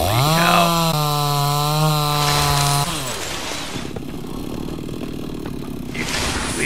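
Chainsaw in the survival video game Mist Survival, a loud steady engine drone at high revs that drops off abruptly, then a rougher idle with a brief rev at the end.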